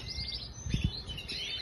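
Small pet birds sitting in the sun after a bath give a few soft, thin chirps against steady background noise, with one brief pair of closer calls in the middle.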